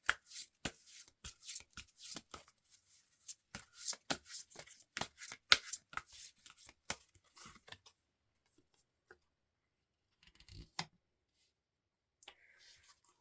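Tarot cards are shuffled by hand in quick, close riffling and flicking bursts, then thin out to a few isolated card snaps and slides.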